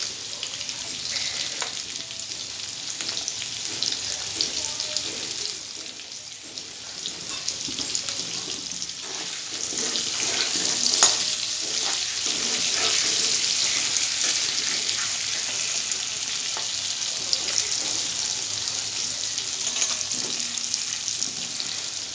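Large chunks of potato fry in a pan with salt and turmeric, giving a steady close sizzle that swells a little partway through, with occasional stirring scrapes.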